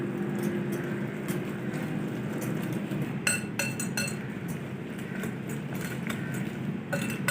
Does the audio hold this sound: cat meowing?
no